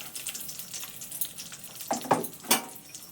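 Curry leaves, dry chillies, a bay leaf and whole spices sizzling in hot oil, a soft steady crackle that ends in a few louder stirring scrapes.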